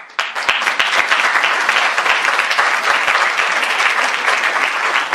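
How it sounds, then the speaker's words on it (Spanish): Loud, dense applause from a large audience at a Spanish-language social media conference session, sustained steadily throughout with a sharp onset. "que le den un gran aplauso, por favor, a nuestro gran amigo Mark Zuckerberg"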